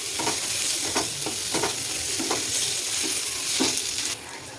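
Bitter gourd (karela) fries in a pan while coriander-cumin powder is stirred in, giving a loud, continuous sizzle with rhythmic spatula scrapes and strokes, close up and without speech.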